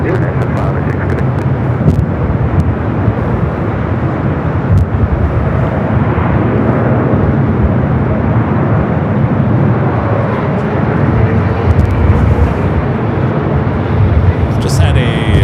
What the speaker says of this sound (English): Just had a Cargo King, a 777 freighter just touching down on the south side.